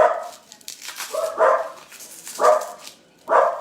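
A dog barks repeatedly nearby, four loud barks spaced roughly a second apart, with softer yelps in between.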